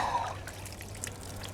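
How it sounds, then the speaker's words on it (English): Warm water is poured over a car headlight to rinse off soapy water, a faint, steady trickle and splash running for over a second. "this is just warm water, rinse off the soap"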